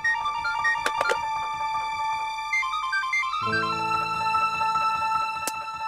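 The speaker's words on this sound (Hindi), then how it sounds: "एक कॉल आ रहा है मोबाइल पे।" A mobile phone ringtone plays a melodic chiming tune for an incoming call over a steady background bed with music-like layers, moderately loud, with no talk.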